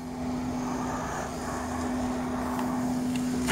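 A Honda engine idling with an odd fault produces a strange whistling hum: a steady, even drone carrying a constant tonal whine, close and moderately loud.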